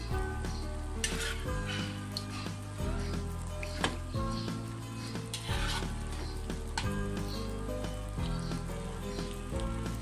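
Pre-cooked beef being spooned onto tehari rice in a pot, a continuous sizzle with clinks and stirring scrapes, fairly close and steady with no talking.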